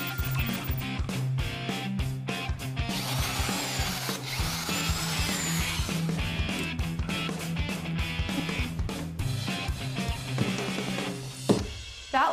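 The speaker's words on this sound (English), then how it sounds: "Now I'm going to carefully just drill a little, not all the way through, just a little bit so I have a good starting point for my screws." A power drill bores shallow starter holes for screws into a cabinet while a cooling fan is installed, giving a loud, close, continuous whirring grind with short rhythmic pulses and a sharp knock near the end.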